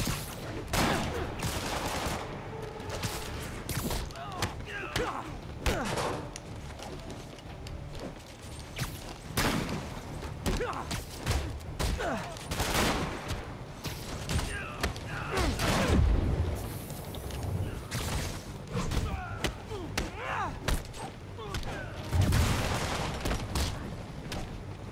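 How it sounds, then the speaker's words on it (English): Gunfire from escaped convicts with sniper rifles in Marvel's Spider-Man, a steady barrage of loud shots and impacts with mechanical clatter and thuds running throughout, dense and close. "Escape convicts with sniper rifles. Not a good combo."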